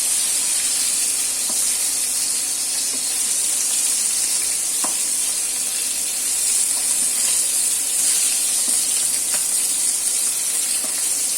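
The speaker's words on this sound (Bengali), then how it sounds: "একটু মশমশা করে বাজা হইতেছে" Young hilsa (jatka) fish frying crisp in hot oil in a pan, giving a steady, loud, close sizzle and hiss throughout with occasional small pops and spatters.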